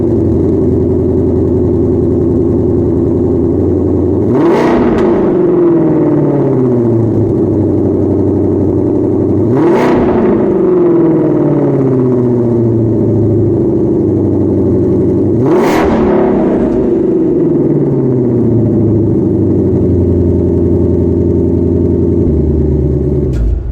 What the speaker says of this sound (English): we'll take a listen at how this engine sounds